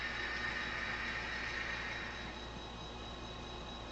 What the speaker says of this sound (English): I don't know if y'all can hear that engine whining